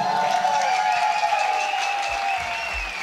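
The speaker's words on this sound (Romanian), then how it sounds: "aplauze pentru ea." Sustained broadband applause from a concert audience at a live Romanian show, steady and fairly loud throughout with a held tonal sound lingering underneath.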